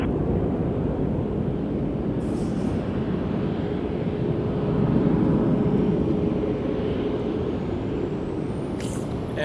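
A WestJet airliner taking off at Toronto Pearson Airport, a loud steady broadband engine roar close by that swells slightly midway as the wheels leave the runway.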